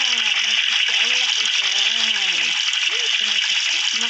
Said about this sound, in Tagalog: Mainit na tubig ang aking shower.